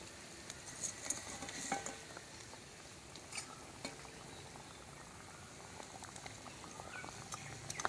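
Water boiling in a pot on the stove while a fish curry cooks, a quiet, steady bubbling simmer with soft pops and occasional faint stirring clinks.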